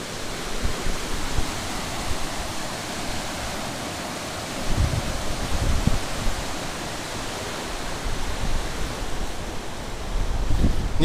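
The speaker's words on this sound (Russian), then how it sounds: "Вода бурлит вовсю прям." Water rushes through hydroelectric dam gates in a loud, constant churning roar, broad and unbroken, with occasional heavier surges and no talking.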